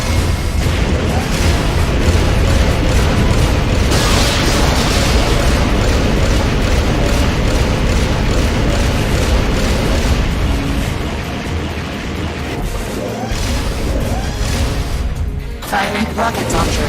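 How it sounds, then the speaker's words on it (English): Rocket launcher firing and explosions in Metal Gear Solid: Peace Walker: a dense, loud, continuous wall of booming blasts and rumbling detonations throughout, with no gaps. "Firing rocket launcher."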